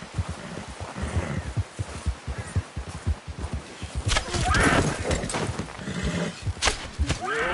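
A horse in Red Dead Redemption 2 gallops with rhythmic hoofbeats while it whinnies and snorts, fairly close, and a voice speaks to it over the hooves.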